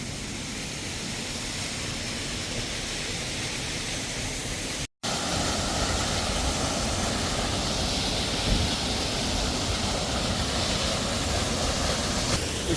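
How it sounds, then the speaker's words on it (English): Waterfall at the bottom of a ladder descent on the Loyalsock Trail, a steady broadband roar of falling water that fills the scene evenly, close and loud, with no talk over it. "Nice waterfall down here."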